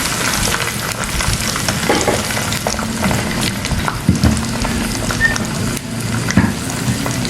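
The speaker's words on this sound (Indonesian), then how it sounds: "Kita goreng saja belutnya." Eel frying in hot oil, a loud, continuous sizzle and crackle with scattered pops and stirring clatter, close and unbroken throughout.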